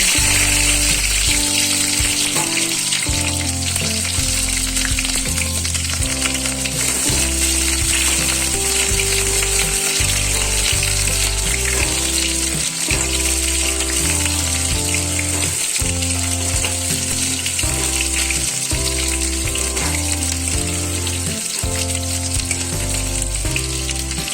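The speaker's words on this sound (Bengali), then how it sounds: "তেলটা গরম হয়ে গিয়েছে, আমি এই ছোটো পেঁয়াজগুলো একটু ভেজে দেবো" Small onions fry in hot mustard oil in a kadai, a strong continuous sizzle with crackling bursts, while a low repeating mechanical rumble runs underneath the whole time.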